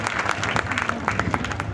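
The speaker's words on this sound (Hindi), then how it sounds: "जोरदार तालियों से।" A seminar audience applauds in a hall: dense, steady clapping from many hands carrying on throughout, fairly close, with a few voices faintly mixed in.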